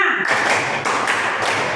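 Children in a classroom play a rhythmic clapping game, tepuk, with a few sharp, close group claps in quick succession, the first after a brief pause, spaced unevenly across a short stretch.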